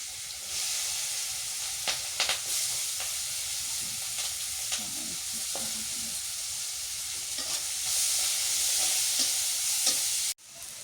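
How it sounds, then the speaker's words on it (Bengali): Mutton fries with onions and green chillies in a hot pan, giving a loud, continuous sizzle close up, broken by occasional stirring clatters and ending in a sudden cutoff. "এখন ভুনা করি, পেঁয়াজ দিয়ে ভুনা করি"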